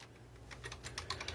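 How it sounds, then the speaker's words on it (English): Quiet typing on a computer keyboard during a live podcast, a short run of soft, irregular key clicks that quicken toward the end over a low hum. "Can't remember which keyboard I'm using here."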